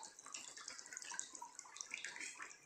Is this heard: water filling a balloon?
yes